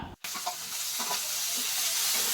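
Onion, capsicum and tomato sautéing in a pan, a bright close sizzle that starts abruptly after a brief gap and keeps growing steadily louder, with no voices.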